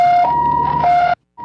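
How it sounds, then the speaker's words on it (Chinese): Ambulance siren responding to a river drowning accident, a loud close wail stepping between two tones before cutting out briefly and starting again. "救护车才就同步出动。"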